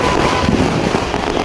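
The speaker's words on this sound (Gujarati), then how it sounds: "બહુ ફટાકડા ફૂટ્યા" Diwali firecrackers burst in a dense, loud, close barrage of overlapping crackling bangs that fill the short moment without pause.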